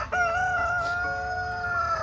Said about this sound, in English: okay, this chicken needs to stop.